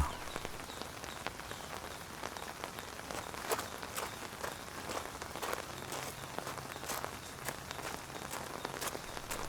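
Steady rain falling and pattering on a surface, with scattered sharper drops throughout; no voices.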